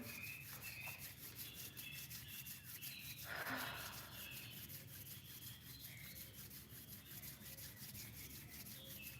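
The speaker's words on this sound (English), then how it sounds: "And you're going to rub your palms together." Palms rubbing together during a quiet guided meditation, heard as one brief, soft swish of skin friction lasting under a second, set against a faint steady background hiss.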